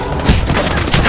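Gunfire in the game Rainbow Six Siege comes as a loud, dense volley of overlapping shots and thuds with no pause across the brief moment.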